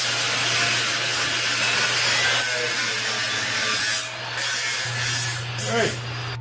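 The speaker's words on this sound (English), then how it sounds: "So I'm just going to grind off these welds here on top." An angle grinder grinds welds off the top of a new logging trailer's steel frame, a steady close abrasive whine with a constant low hum that shifts partway through and briefly drops out near the end.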